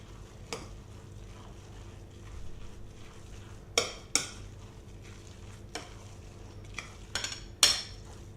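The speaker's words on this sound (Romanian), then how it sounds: "Și amestecăm bine" A spoon stirs noodle pudding with smoked sausages in a pan, soft scraping and occasional sharp clinks against the metal, close and fairly quiet, with no talk.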